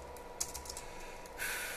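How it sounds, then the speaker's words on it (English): Rapid typing on a computer keyboard connected to a Raspberry Pi, a quiet flurry of light key clicks close by over a soft steady hiss, ending in a brighter burst of noise. "I'm typing really fast on video"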